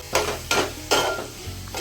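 Mustard seeds and curry leaves hit hot oil in three quick sizzling bursts, each crackling loudly up close and then fading, with a faint clatter of a pan.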